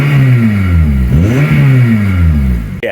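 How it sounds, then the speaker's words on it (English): Naturally aspirated engine of a Honda Civic FN2 Type R revs loudly in the open, climbing and dropping in pitch over a few seconds, with a brief blip near the end. "We're now off cold start, so let's give it a bit of a rev."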